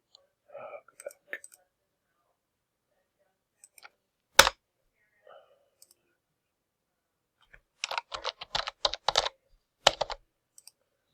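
Computer keyboard typing in quiet bursts, a few scattered clicks early, then a quick cluster of keystrokes near the end, faint and close, with soft whispery mouth sounds at the start.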